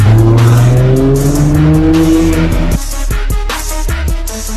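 A McLaren Senna supercar passes loudly on a Paris street, its engine note rising and then falling, with a brief tire squeal before the sound cuts to quieter traffic.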